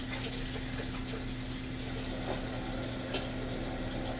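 Hands are washed under a running tap in a home kitchen, a faint steady stream of water with a low hum beneath and no talk.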